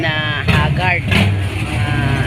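Motorcycles pass during a barangay fun run, their engines revving close and loud in a steady rumble with rising whines, under crowd noise.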